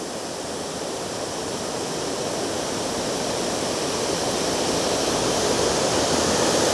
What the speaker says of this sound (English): it's a nice wide waterfall covering the entire river